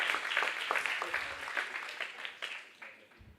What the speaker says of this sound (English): A round of applause to this partnership